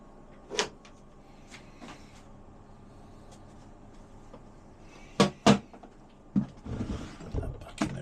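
A wooden drawer slides open and bangs shut in a workshop, giving a few sharp knocks and thuds with rumbling movement between them, near and fairly loud in a quiet room.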